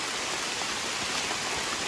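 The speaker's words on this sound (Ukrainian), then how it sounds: "Тут менший дощ." Steady rain falls through a forest during a mushroom-picking outing, a dense, even hiss of drops pattering on leaves and ground, close and continuous with no voices.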